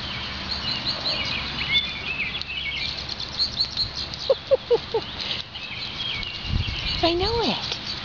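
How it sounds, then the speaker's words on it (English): Birds chirping outdoors, a series of short clear tweets in quick succession midway and a rising whistled call near the end, moderately close, with a person's voice and soft rustling between calls. "Listen to the birdies."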